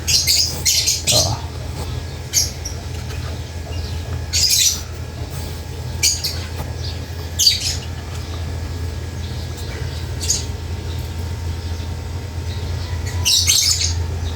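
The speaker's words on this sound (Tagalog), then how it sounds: "Ingay yung ibon natin guys." Pet lovebirds kept indoors give short bursts of squawks and chirps, scattered irregularly over a steady low background hum, moderately near.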